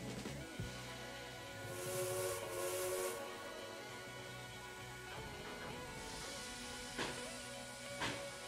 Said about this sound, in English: So we'll give it a good two whistles and off we go.